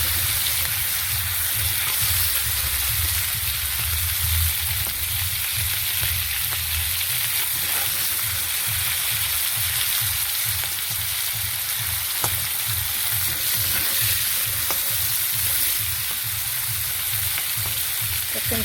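Prawns frying in a pan with turmeric and salt give a loud, steady sizzle close up, with light crackles and a soft low pulsing beneath, no voices.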